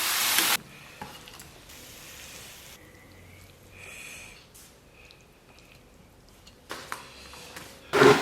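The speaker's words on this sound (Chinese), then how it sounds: "咱们再反复煸炒" Chicken hearts and chilies being stir-fried in a wok, a soft sizzle with spatula scrapes and stirring clatter, framed by loud bursts of noise at the very start and end.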